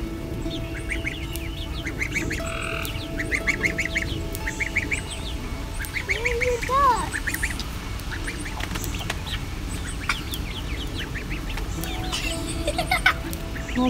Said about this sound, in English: I think Mushroom is afraid of the ducks.